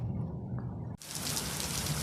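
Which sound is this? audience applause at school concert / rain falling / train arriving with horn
rain falling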